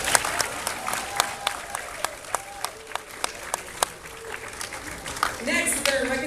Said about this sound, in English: Let's give these children a round of applause.